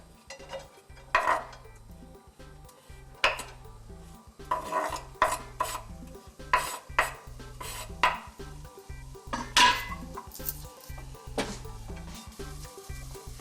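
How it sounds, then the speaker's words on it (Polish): A utensil scrapes and clinks against a pan in irregular strokes, stirring sausage and ham frying over low heat, with faint sizzling underneath and no talking. "Najpierw zaczynamy od smażenia kiełbaski i szyneczki."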